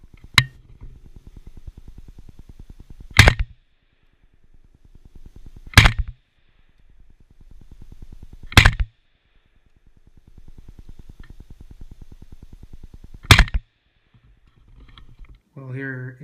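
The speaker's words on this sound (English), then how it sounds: "I did get some footage of me shooting, which I will include in the video as well" Four loud, sharp rifle shots fired outdoors while hunting in Pennsylvania, recorded up close from a GoPro mounted on the rifle, spaced a few seconds apart over a faint steady hum, with a brief voice at the end.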